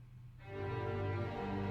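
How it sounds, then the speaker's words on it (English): A string section playing together, bowed sustained notes swelling into a full, steady chord, quiet and alone. "Together, the string section sounds like this."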